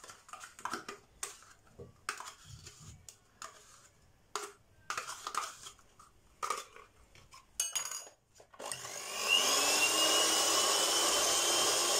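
Crème fraîche whipped together with cream cheese for a cheesecake, first heard as scattered clinks and scrapes of utensils in a bowl, then a steady, loud electric mixer whir taking over for the last few seconds.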